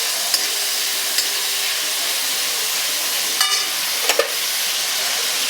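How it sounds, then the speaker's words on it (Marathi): Jain gravy ingredients, made without onion or garlic, roasting in a pan: a constant bright frying hiss with a few faint clicks and scrapes of stirring. "हे आपल्याला चांगलं भाजून घ्यायचे आणि झाकण ठेवायचे."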